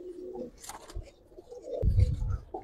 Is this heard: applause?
no